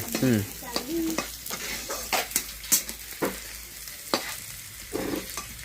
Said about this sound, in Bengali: এই যে এখন দিব একটু টমেটোটা দিয়ে একটু মশলা নাড়াচাড়া করে।